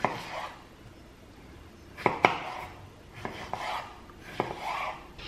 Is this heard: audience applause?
no